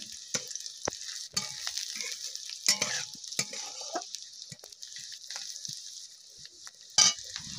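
Nigella seeds fry in a pan on low heat for a taro-leaf mash, giving a steady soft sizzling hiss broken by occasional scraping and stirring clicks, with no voices.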